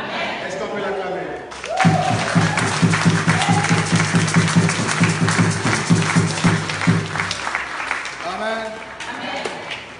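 A church congregation applauds and cheers during a service in Paris, a loud, sustained burst of clapping and shouts that swells after a moment of speech and fades back under a voice toward the end.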